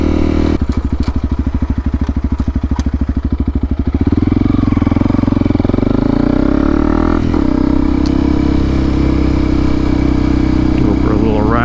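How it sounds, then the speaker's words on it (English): A Honda CRF300L motorcycle with an aftermarket exhaust, baffle in, idles with a rapid thumping pulse, then pulls away and rides on with a loud, steady engine roar up close through a park. "Go for a little ride here through the park as I talk a bit more about this exhaust and let you guys hear it."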